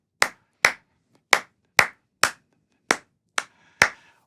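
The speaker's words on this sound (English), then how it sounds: "get used to doing things like just walking down the street and clapping to yourself" Eight sharp hand claps, close and alone, spaced unevenly in an odd-meter pattern of short and long gaps, grouping like 2+2+3.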